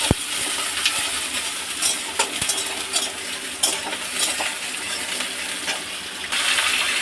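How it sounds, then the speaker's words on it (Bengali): Chicken pieces frying in hot oil with onions, loud continuous sizzling while a metal spatula stirs and scrapes the pan in irregular clanks, no talk. "চিকেনগুলো একটুখানি তেলের সাথে নেড়ে করে নেবো, একটু হালকা ভাজা ভাজা করে নেবো এটাকে"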